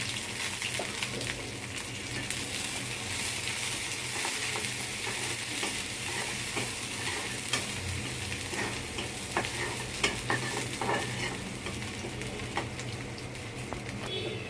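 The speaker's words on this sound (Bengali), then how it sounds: "পেঁয়াজ আর রসুনটা বাদামি করে ভাজা হয়ে গেছে।" Chopped onion and garlic fry in hot oil, giving a steady close sizzle. Stirring scrapes and clinks through it now and then, with no one speaking.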